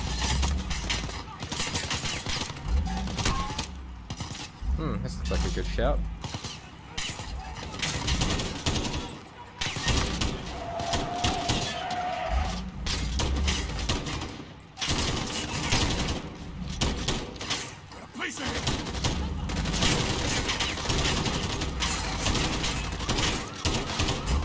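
Video game Modern Warfare gunfire rattles in dense, sustained bursts of automatic shots and scattered single cracks, loud and continuous throughout with brief lulls, while a voice speaks briefly.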